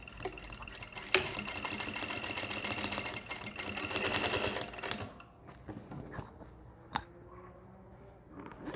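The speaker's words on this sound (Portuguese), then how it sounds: "Vou passar uma costura aqui na boca, uma costura de segurança de meio pezinho." Sewing machine running a half-foot safety seam along the opening of a pleated bag, a fast steady mechanical whir for about five seconds, close and loud, then stopping, followed by quieter handling clicks and rustles.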